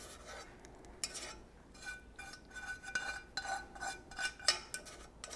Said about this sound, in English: So I'm going to dump this into my pan over here that I've got ready and waiting on me.